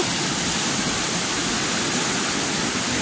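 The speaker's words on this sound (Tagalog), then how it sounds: "sobrang lakas ngayon sa bukid yung ulan" Heavy rain pours down on farm fields in a steady, dense hiss, loud and unbroken, with no voices over it.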